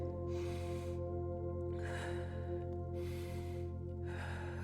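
During a morning yoga session, someone takes four deep, sharp breaths through the nose at a slow, even pace, close to the microphone over a steady low hum.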